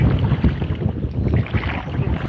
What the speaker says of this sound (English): There's the wind trying to blow the paddle out my lap